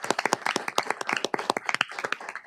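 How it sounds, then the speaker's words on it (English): A small group claps at a county board of commissioners meeting, a few pairs of hands giving a brief, close, irregular patter of distinct claps. "A round of applause."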